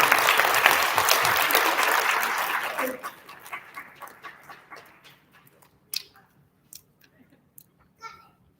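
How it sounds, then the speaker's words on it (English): An audience applauds second graders at an elementary school student recognition ceremony: a loud, dense burst of clapping that thins after about three seconds into scattered individual claps that trail away. "Big round of applause for our second graders."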